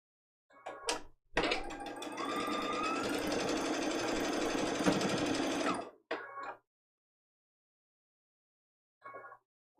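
A sewing machine stitches a foundation paper pieced quilt block: a couple of brief bursts, then a long steady whirring run of several seconds, followed by short stops and starts for back stitches, close and clear.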